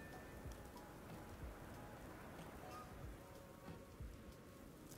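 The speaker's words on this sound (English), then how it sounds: "Oh, it's still raining." Steady rain falls across an outdoor landscape in the video game Starfield, a continuous soft hiss of drops with scattered faint patters, low in level and unbroken for the whole stretch.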